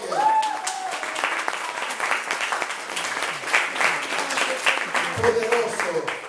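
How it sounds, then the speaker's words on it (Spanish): Church congregation applauding at a Sunday service, a dense, continuous wash of clapping that carries on throughout, with a voice rising above it at the start and again near the end. "aplauda al Rey de Gloria"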